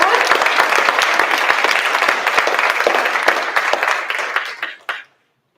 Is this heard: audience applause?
yes